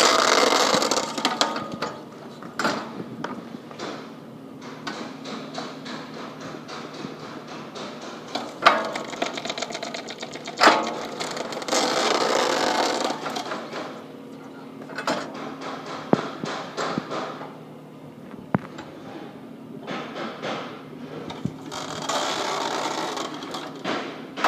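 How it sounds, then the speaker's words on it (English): A TC2-1 tread feeder and its cutting discs slicing tire tread as it is pulled through, a steady mechanical rattle and grinding with repeated louder clunks and surges, close and alone with no talk. "as you pull up on the handle, feed the tread in."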